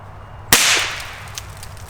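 A single sharp, loud 9mm jacketed hollow point gunshot fired into a cantaloupe outdoors, one crack followed by a short decaying echo.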